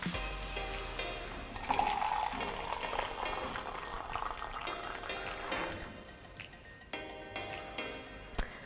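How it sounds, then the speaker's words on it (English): Hot water heated to about 85 °C for making milk tea bubbles and hisses steadily, a close, dense rushing sound that eases slightly toward the end, punctuated by a brief clink. "we want our hot boiling water to be about 85 degrees Celsius or 185 degrees Fahrenheit."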